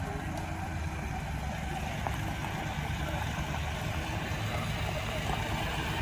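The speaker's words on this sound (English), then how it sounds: "Oh, Holland tractor." A New Holland tractor engine runs steadily at a harvest-day farm museum, giving a continuous low rumble that holds level throughout with no talk over it.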